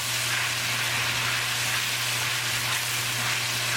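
Semolina sooji halwa being stirred in a hot pan, giving a steady, close sizzle and soft frying hiss with faint scraping, continuous and alone without talk.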